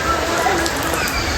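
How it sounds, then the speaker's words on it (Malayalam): Rain falls steadily at a Kerala wedding venue, a dense, even patter heard close throughout the brief moment. "മഴയാണ് ഗൈസ്."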